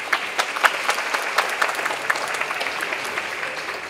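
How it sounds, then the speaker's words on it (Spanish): Steady, strong applause fills the hall at the International Circular Economy Forum as a green bonds panelist leaves, many hands clapping in an even, sustained wash with no speech over it. "Lo despedimos con fuertes aplausos"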